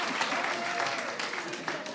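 Church congregation applauding at a Sunday service, a steady patter of clapping for a couple of seconds with a voice talking over it.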